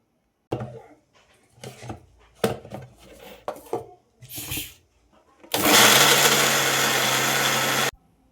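A few clinks and kitchen handling noises, then a mixer grinder roars loudly for a couple of seconds grinding coconut laddu mixture before stopping abruptly.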